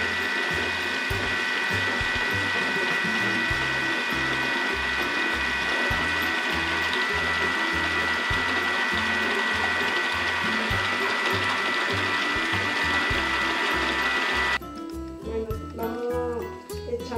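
A hand blender whirs steadily while oil is worked into homemade mayonnaise for Russian salad, a constant motorized drone with rhythmic churning that stops abruptly near the end, leaving faint kitchen clatter.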